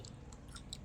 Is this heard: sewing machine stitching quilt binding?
no